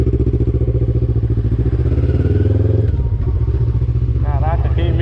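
A Honda CB500 motorcycle with a slipping, burnt clutch revs hard and loud at close range, a sustained throbbing engine roar that dips briefly near the end, with a voice calling out over it.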